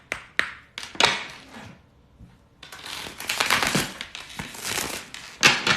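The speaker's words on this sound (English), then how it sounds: "This is how you shuffle tarot cards." Rider-Waite tarot deck being shuffled by hand, a few separate riffling flicks, a short pause, then a longer run of rapid papery cascading riffles close up, with no talking.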